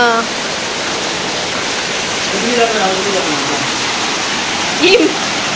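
Rainwater rushes into a house and down its stairs, making a continuous loud hiss of flowing water with faint voices briefly heard beneath it.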